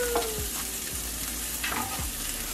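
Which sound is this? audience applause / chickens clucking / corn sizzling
corn sizzling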